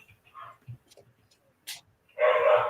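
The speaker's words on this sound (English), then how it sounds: "Can you hear the dogs in the background?" Dogs barking in the background, a few short, faint yips and barks scattered across a quiet moment, ending in a louder burst.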